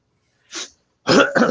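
A single close, abrupt sneeze with a short intake breath and then a sharp burst in a quiet room.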